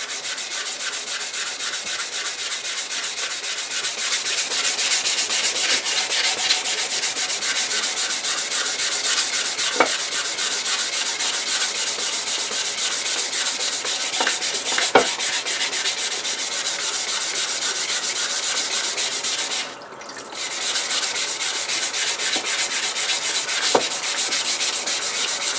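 Steady, continuous rasp of hand sanding on cast aluminum with sandpaper held freely, no block, following curved contours; a close, even scrubbing texture with a brief pause near the end.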